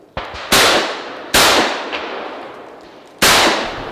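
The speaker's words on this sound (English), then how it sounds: "The gun I've been shooting today, not particularly well, but perhaps better than average, is a Benelli Raffaello Supersport." A Benelli Raffaello Supersport semi-automatic shotgun fires three loud, sharp blasts, each trailing into a long echoing decay, with a fainter pop just before the first.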